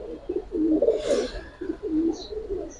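Giribaz and colouring pigeons coo softly in repeated low rolling phrases, several birds close by, with a brief hiss and faint chirps in the background.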